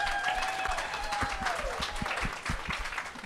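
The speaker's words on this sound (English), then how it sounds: "Y'all give a hand clap for my panelists." A conference audience applauds panelists with steady clapping and a few cheers, while a faint whistling tone drifts above the crowd.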